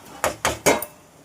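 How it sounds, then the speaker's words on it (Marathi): A metal lid is lifted off a cooking pot of potatoes and capsicum simmering on a low flame, giving three close, sharp metallic clanks in a quick steady rhythm and a faint fourth tap at the end. "आता आपण झाकण काढून घेऊया"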